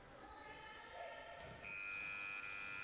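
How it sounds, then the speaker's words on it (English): A steady electronic end-of-match buzzer tone cuts in and holds over a noisy crowd at a futsal match at St George's Park, continuing to the end. "The buzzer sounds at St George's Park to bring to a close this game"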